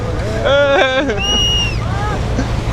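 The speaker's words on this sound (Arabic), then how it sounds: "هذا قارب ثاني راجع على طرطوس" A boat out on the sea off Tartus, Syria, heading back to port, with a steady low engine drone and wind noise running under loud nearby voices calling out.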